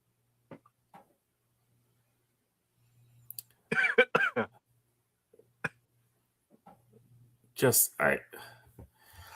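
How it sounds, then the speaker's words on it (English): A couple of short coughs break through long stretches of quiet, with brief bits of talking scattered between them. "As I cough myself."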